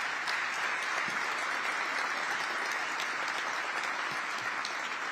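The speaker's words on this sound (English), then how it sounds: "let's give yourselves a round of applause" Audience applause at a Cleveland Cavaliers and Cleveland Clinic partnership announcement, dense steady clapping from a large crowd filling the whole stretch without a break.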